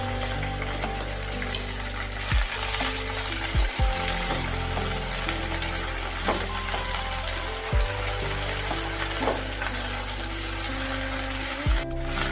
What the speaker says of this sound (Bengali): ঢ্যাঁড়সটা এবার তেলের মধ্যে দিয়ে দিচ্ছি ভাজার জন্য।